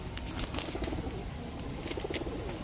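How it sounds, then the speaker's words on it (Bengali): A pair of young Afsan grizzle racer pigeon chicks coo softly and intermittently against a steady, noisy background with occasional faint wing flutters. "আফসান গ্রিজেল রেসারের এক জোড়া বাচ্চা কবুতর"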